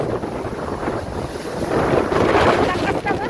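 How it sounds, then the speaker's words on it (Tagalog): Strong typhoon wind gusting in a city street, a loud roaring rush buffeting the microphone, swelling stronger midway and continuing without letup. "Ang lakas ng hangin!"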